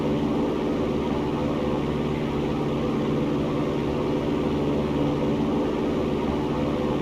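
A light aircraft's engine drones steadily and loudly during the climb after takeoff, holding a left turn near 600 feet, with a constant broadband roar throughout and no voices.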